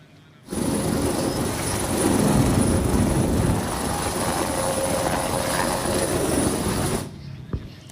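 A helicopter delivering 1,500 kg of disaster aid at a local relief post, its loud, steady rotor and engine roar starting abruptly and running for several seconds before cutting off.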